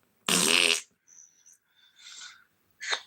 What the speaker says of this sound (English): a fart is just air passing over a turd